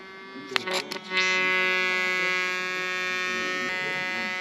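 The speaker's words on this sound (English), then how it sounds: "make a long press to start the vacuum pump" A small vacuum pump in a HOTDIVE underwater phone housing starts after a few clicks and runs as a steady, close electric whine, easing slightly in level and holding to the end.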